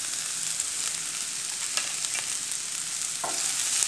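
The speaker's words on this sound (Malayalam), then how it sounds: "എന്നിട്ട് നന്നായിട്ട് ഇളക്കി കൊടുക്കുക" Egg thoran frying and being stirred in a pan, a steady sizzle with a few scraping stirs, close and fairly loud with no talking.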